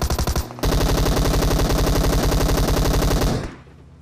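Rapid automatic gunfire in PUBG Mobile Lite: a short burst, a brief pause, then a long continuous stream of fast, loud shots that cuts off after about three and a half seconds.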